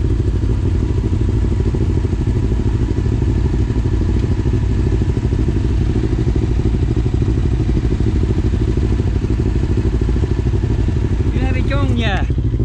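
A small economical vehicle fitted with a 700 cc motorcycle engine idles steadily with a low, even drone, close and loud, with a brief clattering burst near the end.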